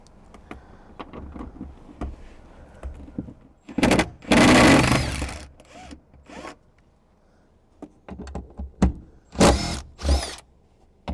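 Power tool bursts loosen 14 mm bolts on the third-row seats of a Lexus GX460, with several loud whirring runs between quieter clicks and handling noises.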